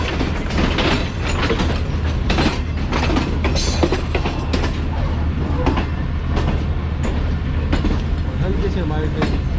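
The Fareed Express train rolls slowly through a station yard, wheels clattering steadily over rail joints with occasional sharper clicks, carried along under a voice talking.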